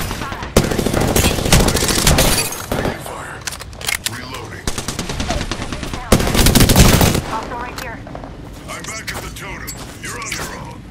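Rapid automatic gunfire in the video game Apex Legends, loud bursts of shots and weapon mechanisms in clustered volleys with short pauses, under occasional in-game voice lines.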